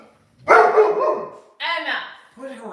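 Pet dogs barking indoors during a home livestream, two loud bark bursts close to the microphone with a shorter yip after, while people talk nearby.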